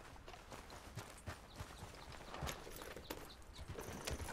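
Horse hooves clip-clopping in Red Dead Redemption 2, a fairly quiet, steady rhythm of hoofbeats blended with outdoor ambience and game noise.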